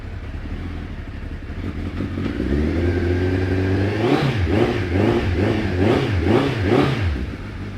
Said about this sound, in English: Really low down grumble from that big engine.